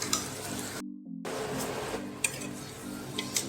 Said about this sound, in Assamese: কলডিলৰ ভাজিখন প্ৰায় হৈয়ে গৈছে।